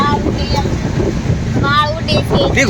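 Strong wind buffets the microphone outdoors in a steady low rumble, while people's voices rise and fall over the gusts.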